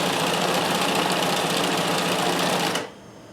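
Vintage sewing machine with a stretch stitch cam stitching at speed, a loud, steady rapid mechanical whirr that stops abruptly near the end, no talking.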